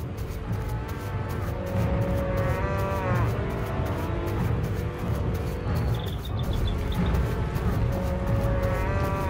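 Cows lowing together on a farm, a sustained run of deep moos over a dense, busy background of music and noise.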